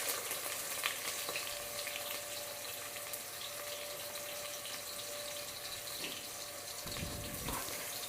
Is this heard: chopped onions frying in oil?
yes